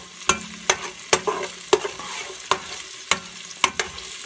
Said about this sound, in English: So I have my beautiful onions frying away.